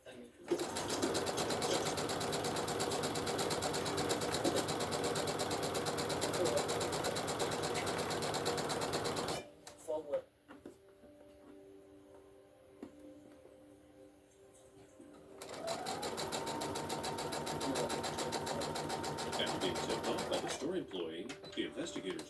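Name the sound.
sewing machine stitching jelly roll fabric strips together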